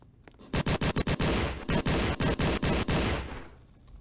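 Custom gun fired in the Roblox video game: about a dozen loud, sharp shots in quick, slightly uneven bursts, alone with no talk, ending in a short tail.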